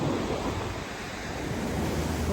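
Ocean waves wash continuously onto a beach at Half Moon Bay, a broad steady roar of surf with some wind noise and no voices.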